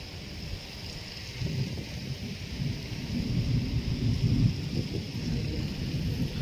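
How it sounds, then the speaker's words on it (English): A thunderstorm rolls outside at night, a low continuous thunder rumble swelling and fading over steady rain hiss, heard from indoors at a moderate distance with no talking. "Lights, camera, thunderstorm."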